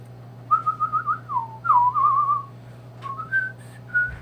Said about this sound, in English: I can whistle through my 2 front teeth